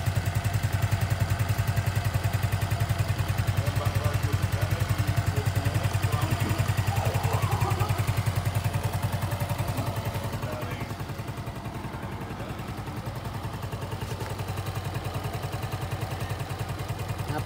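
Suzuki Smash 2023 motorcycle engine idling close by, a steady low rumble with fine rapid ticking. It eases slightly softer partway through and stays even to the end.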